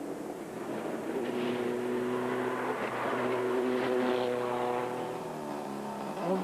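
A rally car in the 2003 Killarney Rally of the Lakes blasts away from the start line, its engine climbing through steady rising revs with gear changes, moderately close and growing louder, with no voices over it.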